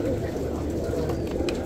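Pigeons cooing at a Thursday pigeon market in Adhamiyah, Baghdad, low soft coos layered over a constant crowded murmur of birds and market bustle, with faint nearby voices.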